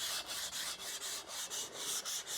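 Close, steady rubbing of abrasive against a Camaro wheel, working out curb gouges into a brushed finish, in repeated back-and-forth strokes with brief dips between passes and no talking.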